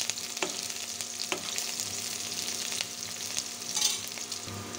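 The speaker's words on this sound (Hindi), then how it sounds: "प्याज को अच्छे से चला लेंगे। थोड़ी देर के लिए भून लेंगे।" Onions stir-frying in a pan for a potato spinach curry: a continuous close sizzle with occasional scraping stirs and clinks of the spoon, and no speech.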